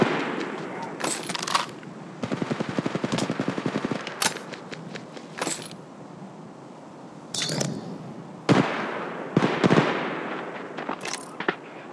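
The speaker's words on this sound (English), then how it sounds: "Shots fired at me" Rapid bursts of automatic gunfire from Apex Legends Mobile, with repeated rattling volleys and sharp single shots spread across the stretch, loud and close amid game sound effects.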